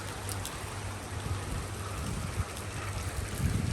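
Steady pre-dawn rain falling in Bahrain, a continuous even hiss of drops on wet surfaces with a low constant hum beneath, no voices.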